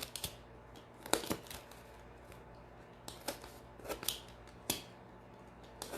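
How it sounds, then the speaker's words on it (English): An X-Acto knife slices through double-layered paper in a craft project, giving quiet, close, intermittent scratchy cutting strokes in short bursts with pauses between them, no talking. "I'm going to take my X-Acto knife, and very carefully I'm just going to kind of go through"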